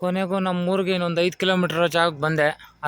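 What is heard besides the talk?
None of the usual background noises is heard.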